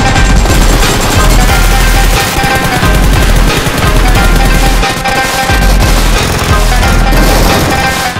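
Rapid automatic gunfire in a mobile battle-royale shooter game rattles loudly and continuously, with dense bursts of shots layered over each other and almost no pauses.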